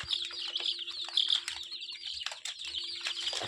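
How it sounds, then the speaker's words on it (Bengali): Ten-day-old chicken chicks chirp in rapid, repeated high peeps that overlap into a busy, fairly soft chorus close by, with no voices. "এগুলো হইলো আমার মুরগির বাচ্চা।"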